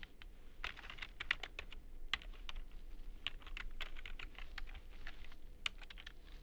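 Rapid typing on a computer keyboard while entering Excel cells, including Alt+Enter line breaks: a quiet, steady stream of light key clicks with a few sharper taps, no voices.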